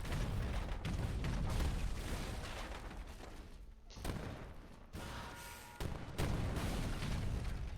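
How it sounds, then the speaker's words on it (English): Cannons firing in a video game battle between forts, walls and boats, a series of heavy booming blasts and thuds in uneven succession, dense and rumbling, with brief gaps between volleys. "It's just cannons versus walls and boats."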